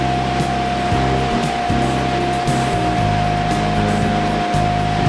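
A steady, loud rush of raw water flowing through a chemical-feed trough at a water treatment plant runs throughout, mixed with a constant mechanical hum and low machinery drone.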